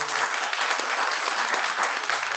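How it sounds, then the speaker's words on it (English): An audience at a conference lightning-talk session applauding, dense sustained clapping from a room full of people, steady and fairly loud throughout. "please applaud and just cheer them until they get off the stage"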